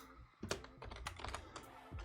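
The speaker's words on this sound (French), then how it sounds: "Je crois que vous entendez genre mes clics de souris, mon bruit de clavier." Computer keyboard typing mixed with mouse clicks during a stream of the game Life is Strange: True Colors, a close, steady run of keystrokes and clicks with no talking.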